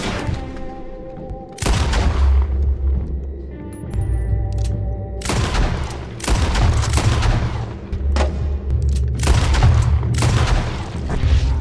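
Gunfire in Red Dead Redemption 2 cracks out in loud repeated bursts with heavy booming low thuds, several volleys separated by brief lulls over about twelve seconds, with no talk.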